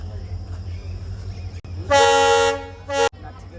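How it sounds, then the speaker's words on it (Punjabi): A train horn blasts twice, a long loud toot followed by a shorter one, over a low steady rumble of an approaching train. "ਜਮਾ 6 ਵਜੇ ਆ ਗਈ ਆਪਣੀ ਟ੍ਰੇਨ ਦੇਖੋ ਆ ਆਉਂਦੀ ਆ"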